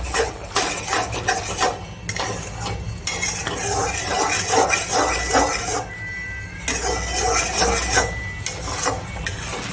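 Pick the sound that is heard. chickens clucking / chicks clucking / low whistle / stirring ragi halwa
stirring ragi halwa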